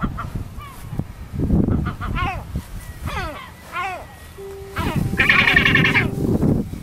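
A mother partridge calls near her chick in a series of repeated, rising honking notes, fairly close, with someone talking over and between the calls.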